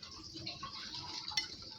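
A spoon stirs chocolate fondant batter in a bowl, making a soft continuous scraping and swishing with light clinks against the sides, faint and close, with one brighter tap near the end.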